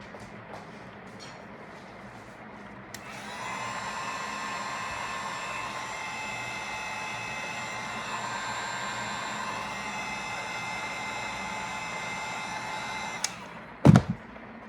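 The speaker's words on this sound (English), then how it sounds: "I'm gonna grab my heat gun to help get the rest of it out of there." A heat gun blows a steady, loud rushing whine over an epoxy tumbler for about ten seconds, starting and stopping abruptly, followed by a brief clunk as it is set down.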